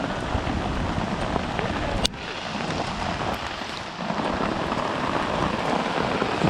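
Heavy rain mixed with hail pounding down in the Himalayan mountains on the Dayara Bugyal trek, a dense steady roar of drops on the ground, with one sharp crack near the start.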